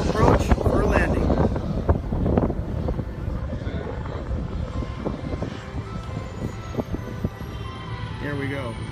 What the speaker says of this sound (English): Now we're turning on base for final approach for landing.